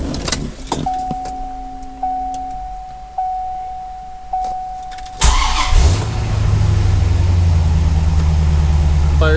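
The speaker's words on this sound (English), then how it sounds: "so this will be a cold start, very cold start" A 1995 Corvette with an LT1 V8 and 6-speed gets a very cold start: a few keys jangle and a chime repeats, then the starter cranks and the engine catches into a loud, steady idle close by, with no talking.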